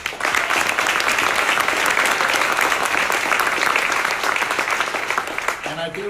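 Audience applause at a Charlotte housing fundraising announcement, dense sustained clapping from a large crowd filling the room, tapering as a speaker's voice returns at the end.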